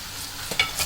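A brief burst of onions frying with ginger and garlic, with a steady sizzle and a couple of stirring scrapes in the pan.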